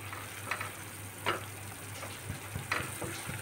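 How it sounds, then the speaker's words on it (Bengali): Spice paste of nuts and melon seeds frying in a pan over a raised gas flame, a faint steady sizzle punctuated by a few soft stirring taps. "গ্যাসের আঁচটা একটু বাড়িয়ে দিয়ে আমি ভালো করে একটু কষিয়ে নিচ্ছি"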